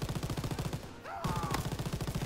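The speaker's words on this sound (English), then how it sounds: "Oh, shit, I got an MG." A mounted machine gun in the Call of Duty WW2 campaign hammers out rapid, steady bursts, broken by a short pause, with loud repeating shots filling the whole stretch.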